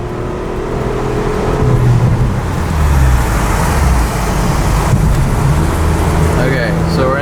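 A front-wheel-drive car with freshly changed spark plugs drives in third gear through highway traffic, its engine and road noise loud and steady from inside the cabin while someone talks.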